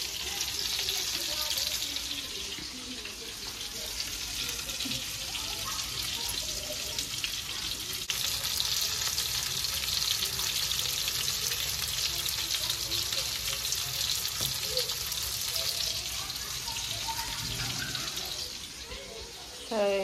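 Breaded eggplant and peppers fry in a home kitchen pan, a steady, close sizzle running throughout with faint clinks and running water behind it and no talking.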